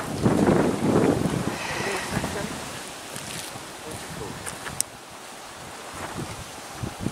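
Strong, cold wind blows outdoors during a sweet potato harvest, a steady rushing roar with gusty microphone buffeting, heaviest at the start and easing a little later, while a person talks over it.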